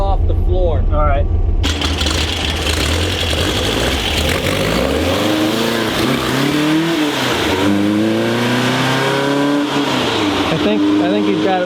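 A rusty 1967 Volkswagen bus camper's engine drones and revs as it pulls away and shifts, rising and falling pitch sweeps close and loud, with people talking over it.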